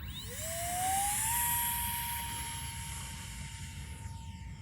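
A micro RC F-16 model jet flying at full throttle, its thin high electric whine rising in pitch as it speeds up, then holding a steady tone while passing over an open outdoor space.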